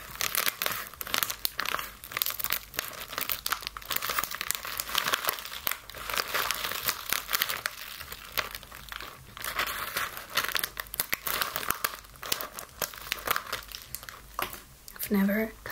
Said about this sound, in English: I've never cut open a packaging like this.